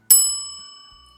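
A single bright notification bell ding, struck once and left to ring out with a long, fading metallic tone.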